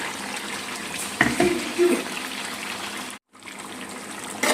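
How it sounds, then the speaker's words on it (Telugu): Water is poured into Hyderabadi-style chicken curry simmering with tomato juice in a pan, giving a moderate splashing rush that swells briefly mid-way, with a short gap near the end and steady kitchen background. "వేసుకున్న తర్వాత కొన్ని నీళ్ళు వేసుకోవచ్చు."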